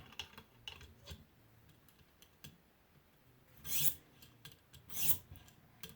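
A knife edge is stroked across a 250 grit ViperSharp sharpening stone, making quiet, close scraping strokes followed by two louder, hissing rasps.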